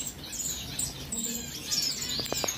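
Finches chirping in breeding cages, bright high twittering calls overlapping from several birds, with a few sharp, louder chirps near the end.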